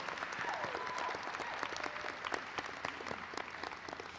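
Applause at a college of nursing convocation for new honor society members, steady clapping from a crowd heard at a distance and fairly quiet, with a few faint voices in the background.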